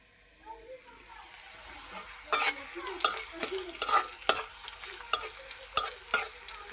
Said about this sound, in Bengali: আমি পেঁয়াজটা আর মরিচটা আগে ভেজে নিতেছি